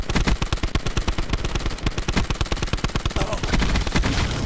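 Rapid automatic gunfire from the Grav rifle in Black Ops 4, a loud, close, steady burst of evenly spaced shots running throughout with no pauses.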